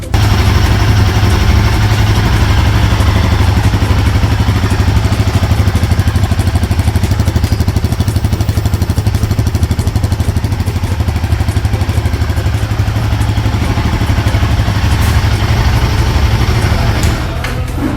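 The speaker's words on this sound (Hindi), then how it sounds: "चलिए अब मैं दोनों बाइक्स के एग्जॉस्ट नोट को आपको सुनाती हूँ।" A Royal Enfield Guerrilla 450 motorcycle engine idles steadily with a deep, throbbing exhaust rumble and mechanical clatter, loud and close, holding without pause throughout.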